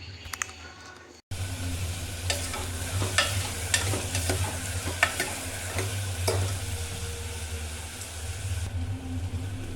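Chopped cluster beans and potatoes hit a hot pan for a curry, and a loud, steady sizzle of frying follows with scraping stir strokes. The sound is close and constant after a brief quieter start.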